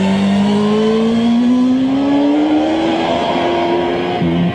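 A racing motorcycle accelerates hard out of a corner, its engine note climbing steadily in a loud, close, continuous whine with no talking, then dropping briefly at the end.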